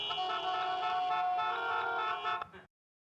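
Car horns honk in a sustained, overlapping blare that holds steadily for over two seconds, then cuts off abruptly to silence.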